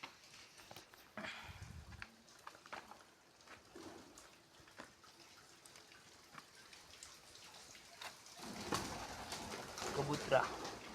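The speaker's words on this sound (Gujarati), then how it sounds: "કબૂતરા" Pigeons coo softly near a village well amid faint outdoor ambience, low and distant, with a brief closer rustle and some light tapping toward the end.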